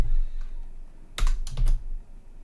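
Typing on a computer keyboard: a few close key clicks in a quick cluster, then silence.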